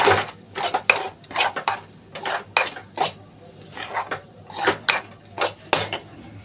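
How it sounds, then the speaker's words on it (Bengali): A spoon scrapes around a pan while stirring a green pea kachori filling with salt, sugar, hing and ghee, giving a quick series of about a dozen close, rhythmic scraping strokes with brief pauses between them and no speech. "এর মধ্যে নুন, চিনি, হিং আর ঘি দিয়ে ভালো করে নেড়ে নিচ্ছি"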